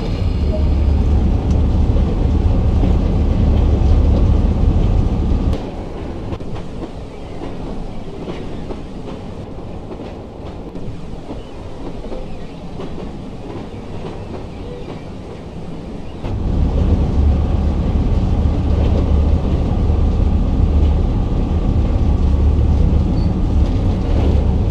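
A BR Class 33 diesel locomotive coasts in the Train Sim World West Somerset simulation, a steady rumbling engine drone with faint rail rhythm. It dips quieter for a stretch in the middle, then swells back to the same level.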